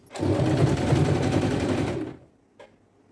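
A sewing machine stitches a kurti seam, running in one steady close burst of rapid mechanical needle rattle for about two seconds, then stopping, with a faint click afterward.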